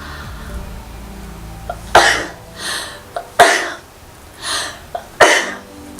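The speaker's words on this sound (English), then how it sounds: "let's sneeze." A person sneezes and coughs several times in close succession, each burst sharp and loud against a quiet room, with short gasps and breaths between them.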